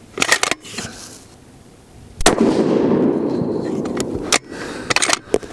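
Two sharp, loud 7mm PRC rifle shots fired with 168-grain Cutting Edge handloads on a range, each a hard crack followed by a rolling echo, with faint clicks and handling noise between.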